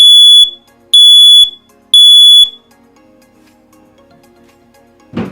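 A Google Nest Protect smoke alarm sounds its test pattern, three loud piercing beeps in a slow even rhythm, then quiet with a faint low electronic tone and a short noise at the end.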